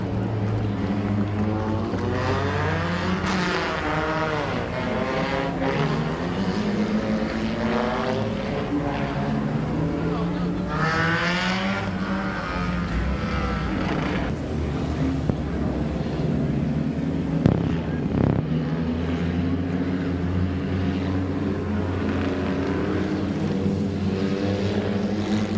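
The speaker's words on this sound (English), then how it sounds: "Eight-lap heat race number 1 for the Phillipson Towing Compacts is underway for Beal and Kopp" Compact race cars in an eight-lap heat race at Midvale Speedway, their engines droning and rising and falling in pitch as they pass, loud and continuous throughout.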